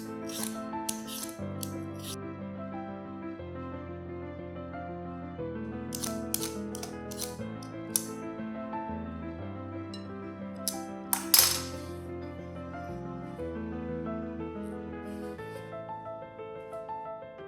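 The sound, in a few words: peeling potatoes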